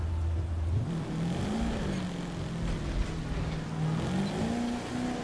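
A Chevrolet Camaro ZL1 cruising in the racing game The Crew 2, its engine a steady loud drone that rises and falls slightly in pitch as the car eases along, with no voices.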